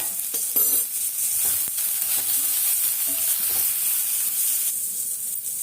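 Curry leaves and vegetables sautéing in a pan, a loud constant hissing sizzle with a few stirring scrapes and clatters, no voices.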